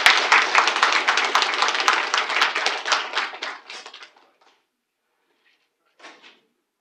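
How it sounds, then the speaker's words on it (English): Audience applause for a congressman at a hearing, many hands clapping densely for about four seconds before fading out, followed by a short second burst of clapping. "Let's give him another round of applause."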